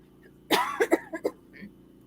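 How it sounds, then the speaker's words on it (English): A few sharp coughs from COVID lung damage in quick succession, close to the microphone, followed by a softer throat-clearing sound against a low background hum. "Sorry for the coughing."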